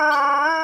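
A dog howls in one steady, sustained, loud tone, close by and alone, lasting well under a second.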